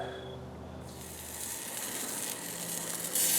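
Black bear kielbasa sizzles on a grill on a cold night outdoors, a steady, soft hiss that grows slightly louder toward the end, with no voices.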